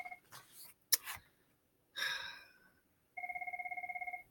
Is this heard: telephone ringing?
yes